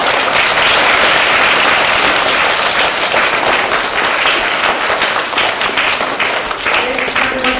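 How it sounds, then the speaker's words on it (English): Audience at an event with the Irish vice consul general giving a round of applause to teachers, loud dense continuous clapping throughout, close and steady. "So let's give those teachers a round of applause."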